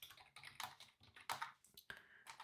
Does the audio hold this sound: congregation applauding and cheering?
no